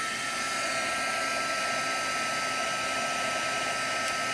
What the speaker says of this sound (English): I'm going to take my heat gun.